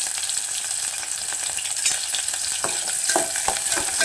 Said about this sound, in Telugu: కొంచెం కాయ ఉల్లిగడ్డ వేసుకుందాం ఉల్లిగడ్డ పచ్చిమిర్చి వేసుకుందాం